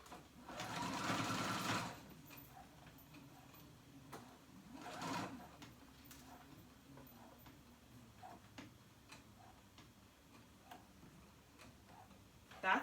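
A sewing machine runs a long gathering stitch in two short whirring bursts, the first about two seconds long, with faint ticking and mechanical clicks in the quieter stretch between and after them.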